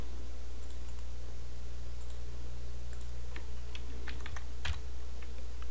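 Keys clatter on a computer keyboard as a web address is typed into a browser, with a few scattered clicks and taps over a steady background hum.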